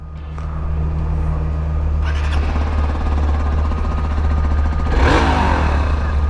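A Hero XPulse 200 4V motorcycle idles with a steady low exhaust note, then gets a couple of modest throttle blips, the last rising briefly in a short rev.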